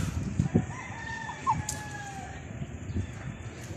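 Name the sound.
chickens and rooster crowing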